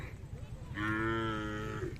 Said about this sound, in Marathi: भरपूर जनावरं आले आहेत जवळा तालुका सांगोला मसोबा यात्रेनिमित्त